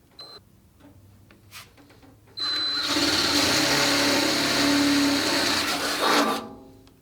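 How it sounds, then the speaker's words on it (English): A center drill bores into the metal of a 1968 Dodge Dart door during race-car latch installation; after brief quiet ticks the drill motor whirs loudly and steadily for about four seconds, then winds down. "So now I've got a center drill in, so that center drill keeps you from walking so much."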